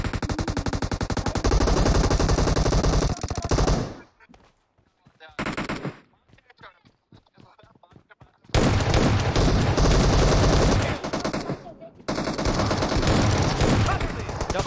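Loud bursts of automatic gunfire from the mobile game PUBG Mobile, rapid sustained volleys broken by a short pause of scattered, quieter single shots before heavy firing resumes.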